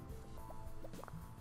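Soft bubbling bloops from the Game Dev Tycoon video game, a few faint, quick liquid pops scattered over a low steady hum.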